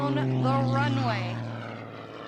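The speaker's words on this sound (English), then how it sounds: "Take a look at the Zipco Edge 540 as he is waving all the way down the runway." A Zipco Edge 540 aerobatic plane in Harlequin paint runs down the runway at the Reno airshow, a propeller engine drone with wavering pitch heard beneath a commentator's voice that fades as the sound eases.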